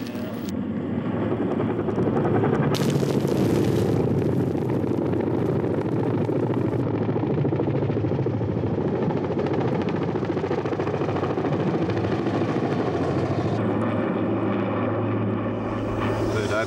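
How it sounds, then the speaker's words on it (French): A firefighting helicopter swinging its water bucket over a wildfire gives a loud, steady rotor and engine roar that runs unbroken from start to finish, close and dominant, with faint voices underneath. "get the helicopter to swing that bucket around and drop on that"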